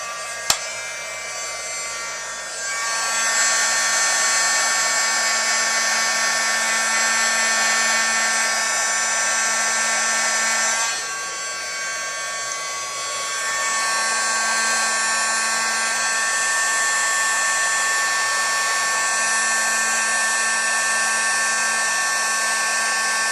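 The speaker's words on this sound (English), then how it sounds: "I'm going to go ahead and get my heat tool." Embossing heat tool blowing hot air for card making, a steady whirring roar running nearly throughout, briefly easing in pitch and loudness midway before resuming, close and alone.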